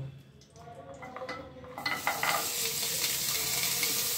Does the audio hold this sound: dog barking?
no